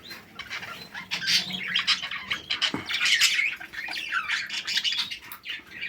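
Budgerigar chicks squawk and chirp in a dense, overlapping chorus at close range, with harsh rasping calls rising and falling throughout and no talk.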